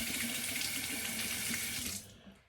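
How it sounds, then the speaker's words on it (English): A razor rinsed under a steadily running tap, water splashing loudly into a sink for about two seconds before the flow cuts off abruptly. "but not clogged after a slight rinse"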